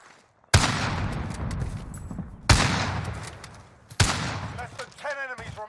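Gunfire in the video game Call of Duty: Modern Warfare Warzone: three loud, sharp shots or bursts, each with a long decaying tail, followed by brief ringing game effects, with a voice talking underneath.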